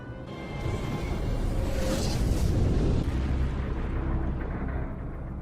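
A missile self-destructs in a Stargate SG-1 episode, a broad rumbling explosion that swells and roars for a few seconds before fading into a low sustained rumble.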